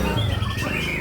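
A white-rumped shama (murai batu) in full song during field conditioning, giving a steady stream of close, loud whistled and chattering notes that carry on without a break.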